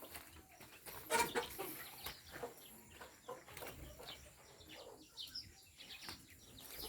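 Chickens on a Philippine farm clucking faintly in the background, with scattered short calls and rustling over a quiet outdoor ambience, no talking.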